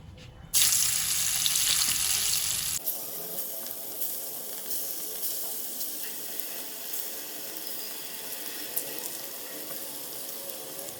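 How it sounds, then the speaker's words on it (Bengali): A short burst of hissing, like running water, gives way to a steady, softer sizzle of the remaining batch of potatoes frying in oil for dum aloo. "এবার বাদবাকি আলুগুলো আছে এগুলোও ভেজে নেব।"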